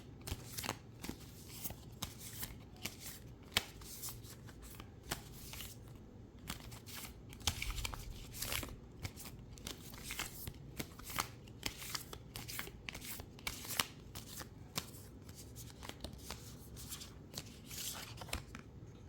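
Tarot cards are shuffled by hand in a long, steady stretch of dense papery riffling and flicking, close and fairly quiet, with brief sharper snaps scattered throughout and no talking.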